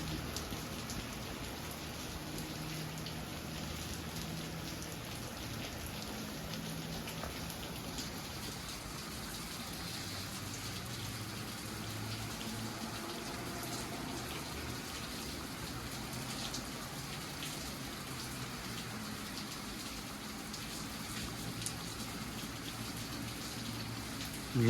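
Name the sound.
heavy rain falling in Pullman, WA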